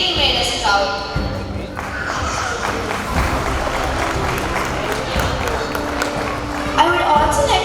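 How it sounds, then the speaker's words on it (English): An audience at a school annual day celebration breaks into dense, sustained applause that swells after a moment and continues under a speaking voice. "A huge round of applause for all our students who have wowed us today."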